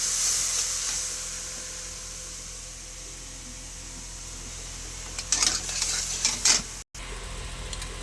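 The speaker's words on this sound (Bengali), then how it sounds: "ভালো করে নেড়ে চেড়ে নিতে হবে" A fish curry being stirred in a pan with salt, sour water, turmeric and green chillies: steady soft sizzle with scraping, stirring strokes that grow louder and busier near the end, no one talking.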